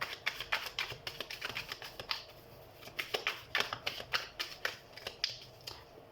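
Tarot cards are shuffled by hand in quick, crisp riffling bursts with a rhythmic clicking texture that comes in uneven clusters at a fairly quiet level, with no talking.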